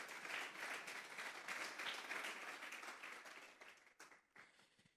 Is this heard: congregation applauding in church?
yes